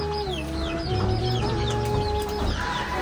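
A rooster clucks repeatedly and fairly close by on a Nepali farm, with low chatter of other fowl and faint bird calls in the background throughout.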